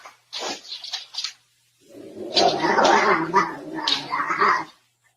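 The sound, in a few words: cat reacting in a cat versus ghost video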